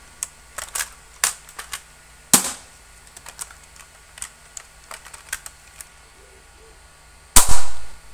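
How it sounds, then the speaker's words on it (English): Unmodified Nerf gun dry firing, with a string of sharp clicks and snaps from the mechanism, two much louder bursts standing out among the smaller clicks, close up with no talking. "if you try hard enough and dry fire it next to your ear, you might achieve hearing loss"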